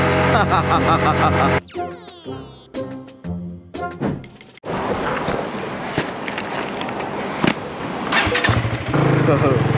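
A motorcycle engine idles and revs up close by, with a few clunks and a voice talking over it.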